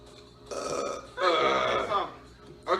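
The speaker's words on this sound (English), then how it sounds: "Oh, the burping feels good." Three loud, close, drawn-out burps come in quick succession from someone in a burping challenge, with the middle one the longest and most forceful.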